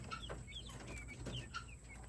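Guinea fowl call from nearby with short, repeated chirping notes that come quickly over a low rumble from the farmyard.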